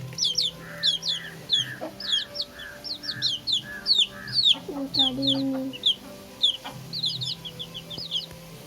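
High chirping calls of chicks repeat steadily alongside clucking fowl, with a brief crowing-like call midway; close, busy barnyard birds.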